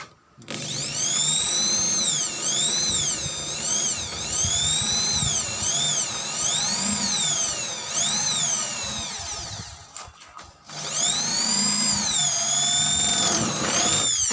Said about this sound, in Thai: เจาะเข้าไปใหม่ครับ